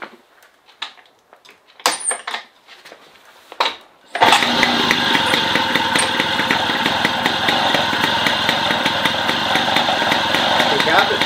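An MBK 51 moped is kicked over after a few clanks and handling knocks, then its small two-stroke engine catches and settles into a loud, steady, buzzing idle close by, with a voice briefly speaking beforehand.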